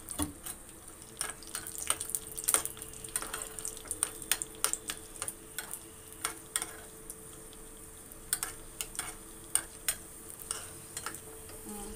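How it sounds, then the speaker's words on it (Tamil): Cashews and raisins frying in a little oil for semiya payasam give a faint, steady sizzle with soft ticking pops, close and quiet, with no voices. "நல்லா முந்திரி திராட்சைலாம் பொரிஞ்சிடுச்சு."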